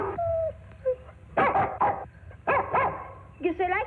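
Two dogs meet: a collie named Lassie and a dog named Snuff. There are short barks, yips and whimpers in excited bursts, close by, with faint background noise and no clear speech.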